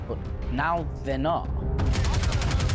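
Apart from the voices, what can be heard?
gunshot in the video game Star Citizen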